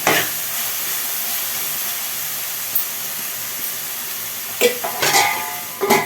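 Ginger and chili powder frying in hot oil while being stirred for a prawn and broad bean curry, giving a steady close sizzle with a few louder scrapes and bursts near the end.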